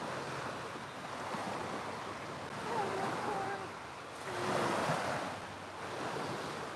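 Ocean waves break and wash against a rocky shore, with broad surges rising and falling under steady wind noise; faint talk can be heard in the background.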